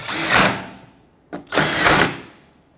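A power drill tightens two mounting screws on the front bumper cover of a 2009–2014 Ford F-150. Two close, loud whirring bursts are heard, each lasting about a second, with a brief trigger blip between them.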